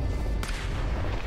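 A single gunshot in the shooter game S.T.A.L.K.E.R. Anomaly, a sharp sudden crack partway through followed by a brief rumbling tail over a dense, steady game ambience, no voices.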